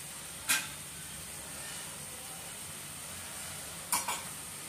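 Chickpeas tossed with garam masala in a pan for Punjabi-style chole, with a steady quiet sizzle and two brief scraping stirs, one early and one near the end.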